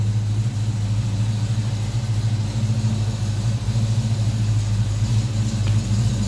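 A 1991 Mustang GT's 5.0 V8 rumbles steadily at idle, a deep, loud, continuous low-end throb with a slight lope, close by and alone with no voices.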